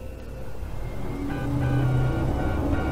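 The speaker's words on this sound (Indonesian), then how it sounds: "Kok ada suara mobil" A car engine in a GTA video game hums steadily as a low, continuous drone that grows slightly louder toward the end, with no talk over it.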